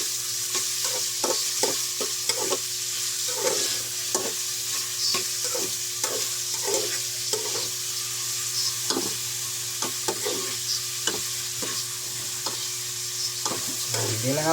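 Garlic, onion and ginger frying in a pan, a continuous sizzle with repeated scraping strokes of stirring at a steady rhythm, close and moderately loud, no talk.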